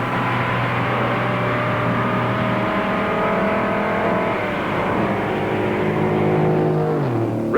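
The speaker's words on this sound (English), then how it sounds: "Richard drops into a corner wide open and turns the fastest laps ever run at Daytona in a stock car" A 1964 Plymouth stock car at speed on the Daytona track, a loud, steady, high-revving engine roar that holds near and constant, then drops in pitch as it lifts near the end.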